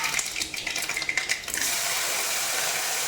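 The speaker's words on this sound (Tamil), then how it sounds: "தேவையான அளவுக்கு நான் தண்ணி ஊற்றிக்க போகிறேன்." Water splashes and pours into a pan of masala vada curry, with clinking kitchen sounds at first before the flow settles into a steady, close rush.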